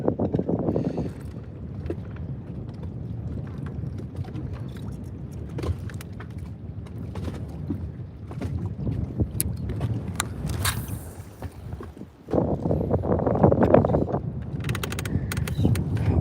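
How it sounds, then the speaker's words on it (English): Wind gusting across open water from a fishing boat during bass fishing, a steady rough buffeting rush on the microphone that dips briefly and then surges louder, with no talking. "How does the wind sound to you guys? Because it's picking up out here right now."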